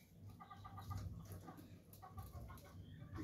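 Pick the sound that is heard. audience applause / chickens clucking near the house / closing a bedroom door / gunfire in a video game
chickens clucking near the house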